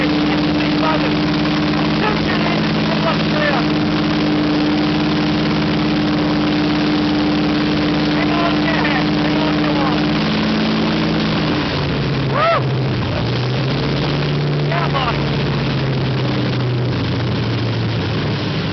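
A Pratt & Whitney R-4360 radial aircraft engine thunders loud and close at a steady rumbling idle, then its pitch drops and shifts partway through, with voices talking under the roar.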